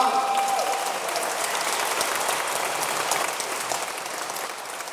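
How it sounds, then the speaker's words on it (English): Sustained applause from an audience at a 2019 women's awards ceremony, dense steady clapping throughout that eases slightly toward the end. "let's give them a round of applause"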